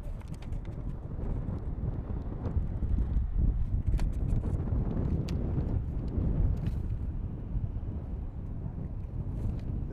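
Low, steady rumbling buffet of wind hitting a microphone atop a football press box, continuous for the whole stretch with no clear voices.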